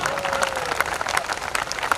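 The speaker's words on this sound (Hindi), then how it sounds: "आप यहां अपनी तालियां नहीं रोक पाएंगे" Audience applause breaks out at a poetry recital during a Diwali fair's kavi sammelan in Udaipur, a dense burst of many hands clapping steadily from a crowd close by.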